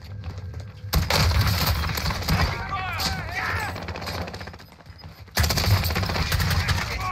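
Double shotgun blasts in a first-person shooter video game, loud booming reports with a brief lull in the middle, heavy gunfire dominating throughout, voices faintly present.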